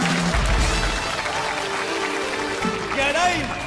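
A theatre audience applauds to welcome comedians Quang Minh and Hồng Đào back to the stage at a comedy show, a steady wash of clapping running under voices and music.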